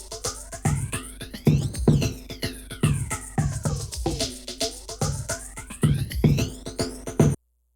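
A pulsing synth pattern swept by an Ableton Live 10 phaser, its notches gliding up and down in slow, swirling arcs across the whole passage.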